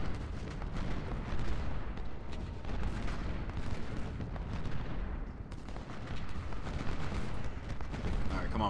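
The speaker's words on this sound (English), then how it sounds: "We can't stand there and take canister fire to the face." Artillery canister fire in the Civil War strategy game Ultimate General: Civil War, a continuous roar of booming cannon and massed shots, loud and unbroken, with a voice talking underneath.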